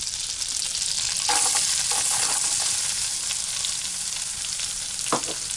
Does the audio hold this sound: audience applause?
no